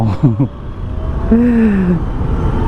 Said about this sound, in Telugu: ఏంట్రా ఈ ట్రాఫిక్!